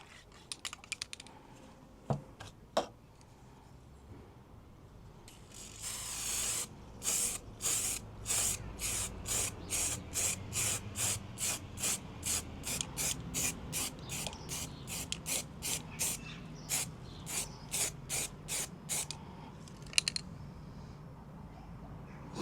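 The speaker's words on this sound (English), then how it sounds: "So I'm gonna spray this first. I'm gonna practice with the primer first on this one" Aerosol can spraying primer onto VW Crafter van badges in a long series of short, regular hissing bursts, close and fairly loud, with no talk.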